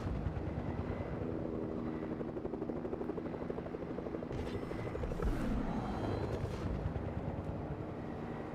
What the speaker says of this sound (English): This dude took my chopper, bro.